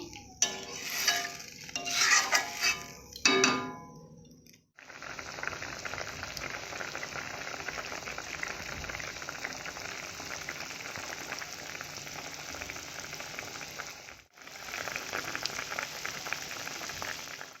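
Water for a thin rohu fish curry bubbles at a rolling boil in a pot, a steady close hiss and gurgle that runs after a few kitchen clatters and briefly drops out near the end.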